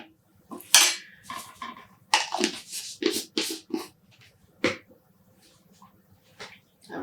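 A spoon clatters and scrapes against a metal dye pot while black dye powder is mixed in, a series of irregular close clinks and knocks.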